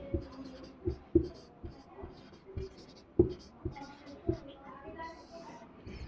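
Chalk or marker strikes and scratches on a board during a Sanskrit class lesson, a series of short taps and strokes at irregular intervals, close and fairly faint, as a teacher speaks over them.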